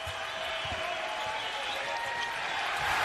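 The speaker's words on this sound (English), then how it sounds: "Listen to that crowd pop." Basketball arena crowd roars steadily as the Idaho Vandals close out Montana to clinch an NCAA tournament berth, a dense, continuous wash of cheering that swells slightly at the end.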